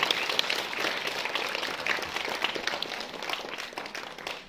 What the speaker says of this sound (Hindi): इनके लिए भी जोरदार तालियां रमेश राम जी के लिए